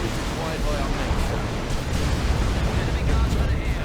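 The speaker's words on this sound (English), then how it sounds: "Some pretty brutal AoE damage coming onto the guardsmen there of the red team from this missile launcher sentinel." Missile launcher sentinel explosions rain area damage onto Imperial Guard guardsmen in the video game Dawn of War 2, a dense, steady roar of blasts and rumble that fills the whole stretch at high volume.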